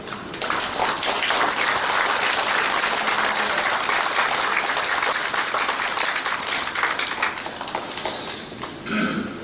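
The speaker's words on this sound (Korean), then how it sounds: "나오실 때 박수로 환영해 주시기 바랍니다" An audience at a church New Year gathering applauds to welcome a speaker, sustained loud clapping from a crowd that fills the room for about eight seconds before tapering off.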